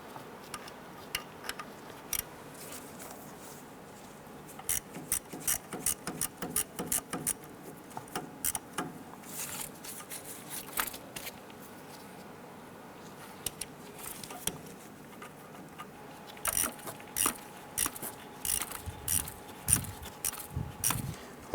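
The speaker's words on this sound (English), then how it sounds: "Using a 5/16 socket, we're going to go ahead and remove the screw with a small bolt holding our ABS wire to the knuckle." A 5/16 socket removes the small screw and bolt holding the ABS wire to the steering knuckle of a 1995-2001 Ford Explorer, heard as faint, scattered metallic ticks and clicks in quick irregular bursts, close by, with no talk.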